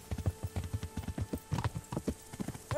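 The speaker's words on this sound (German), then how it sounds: "Dieses schweigende Reiten." A horse's hooves clip-clop at a steady riding pace in Kingdom Come Deliverance, each hoofbeat crisp, close and clearly separated, with a short rising tone at the very end.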